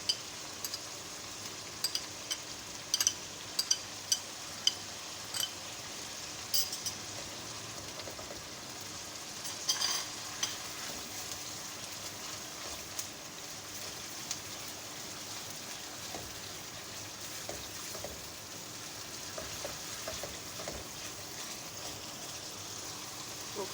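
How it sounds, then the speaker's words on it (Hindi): Onions with ginger and garlic masala frying in a pan make a soft, continuous sizzle at low level, with scattered ticks and clinks of stirring throughout, no talking. "ओके जी, मसाला हमारा अच्छे से फ्राई हो चुका है।"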